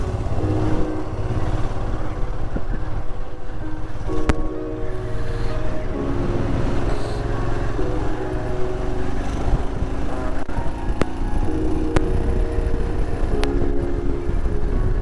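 Dense stream of motorcycles and traffic rolling past on a mountain road in Spiti Valley near Dhankar Monastery, a loud continuous engine drone with no pauses and no talk.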